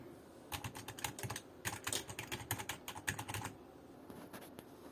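Soft, muted typing on a non-mechanical computer keyboard in a few quick bursts of keystrokes, close and quiet, with no clacky mechanical click.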